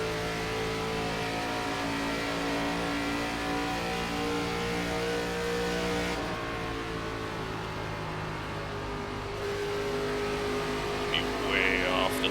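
An ARCA stock car engine in the iRacing NASCAR game at Atlanta drones steadily at high revs, with pitch shifts as the throttle eases and returns, and a voice talks over it.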